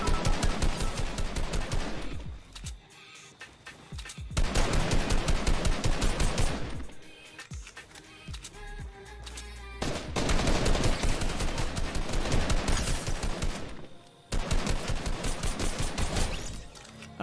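Gunfire in Fortnite comes in loud, dense bursts of rapid shots, broken up by short quieter gaps, with several separate volleys over the stretch and no voices.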